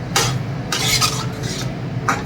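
Mutton stirred in a pan over a high gas flame gives bursts of scraping and rustling at irregular intervals over a constant sizzle, close up.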